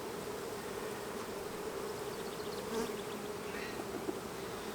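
Honey bees buzzing around an open beehive, a steady dense drone of many insects close by, quiet and continuous with no voices.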